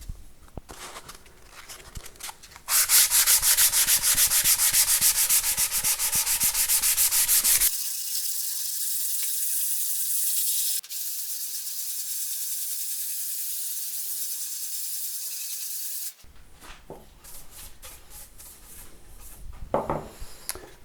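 A 400-grit pad sands the wooden body of a Blackguard Esquire guitar under restoration: steady, close rasping strokes, then a long smoother hiss of continuous rubbing that fades to quieter handling at the end.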